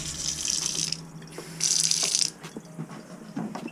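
Water runs from a newly installed Moen Banbury kitchen faucet in two steady hissing bursts into the sink, with quieter splashing and small handling knocks between them, no speech.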